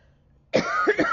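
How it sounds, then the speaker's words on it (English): A single hoarse cough from someone recovering from an illness, short and close, breaking sharply out of near silence with a rough, raspy tail. "Although the cough, ironically, is getting better."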